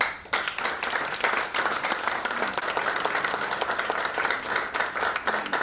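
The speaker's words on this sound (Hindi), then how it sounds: "आइए जे सर के लिए जोरदार तालियां" A seminar audience breaks into sustained, vigorous applause, a dense wash of many hands clapping steadily at close range with no talk over it.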